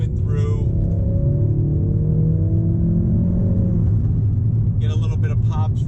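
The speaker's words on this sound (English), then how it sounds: "get a little bit of pops from the exhaust" A Ford Focus RS engine drones loudly and steadily from inside the car under acceleration, with brief crackling exhaust pops near the end and a voice briefly heard over it.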